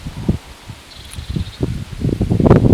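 Gusty wind buffets a microphone outdoors in Snowdonia, with low rumbling bursts and rustling that build toward the end.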